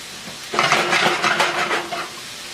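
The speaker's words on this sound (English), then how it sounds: "We'll just stir this up nice." Chicken cacciatore being stirred in a pot, a spoon scraping and clinking against the metal in quick repeated strokes over a soft simmer, close and fairly loud, with no talking.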